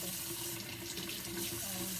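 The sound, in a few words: hot water running from tap for puppy bath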